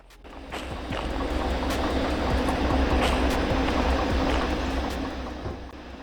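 A locomotive rolls along rails in the train simulator Derail Valley, a steady rumbling drive with rhythmic clicks and clanks that swells and then fades slightly. It is heard alone, with no speech.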